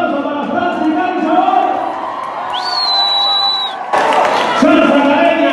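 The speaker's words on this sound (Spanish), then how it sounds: "Aplausos para Francis Garza." Audience at a Halloween salsa dance show in Salle Wagram cheers and applauds for a dance school director: a sustained, loud crowd roar with a shrill whistle midway, then a sudden surge of clapping and whooping that carries on to the end.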